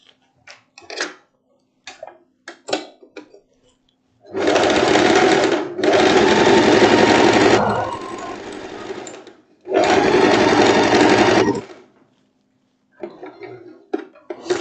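A sewing machine stitches the front of a long boho dress, running loud and close in three sustained whirring bursts separated by short pauses, with light clicks and handling noises before and after.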